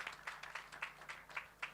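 Applause at a garden and flora enthusiasts' conference, heard as faint, steady claps in a quick, even rhythm from a small group, with no talking.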